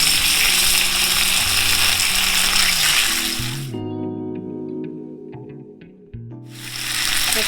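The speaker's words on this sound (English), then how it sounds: "So I'm going to add more oils in here." Oil sizzles in a pan while beef chow fun is being made, a loud hissing wash that cuts out midway under a droning tonal hum, then swells back up.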